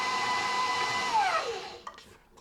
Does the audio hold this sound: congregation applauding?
no